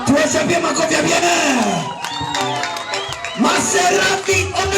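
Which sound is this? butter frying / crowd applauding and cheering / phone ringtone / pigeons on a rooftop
crowd applauding and cheering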